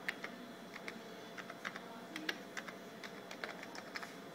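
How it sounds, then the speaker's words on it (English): Keys clacking in quick, irregular bursts as annotation text is typed on the keyboard of a Zonare ultrasound machine, close and moderately quiet with no talk. "you can just type from the keyboard"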